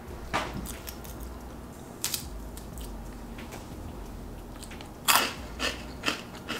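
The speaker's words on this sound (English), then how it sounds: "Listen to the crunch." A crunchy vegan snack being chewed up close, a few sharp bites and crunches separated by quieter chewing, fairly faint overall with no talk during it.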